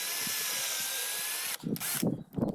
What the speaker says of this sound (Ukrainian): Аналогічно прикручуємо інші шурупи до решти опору.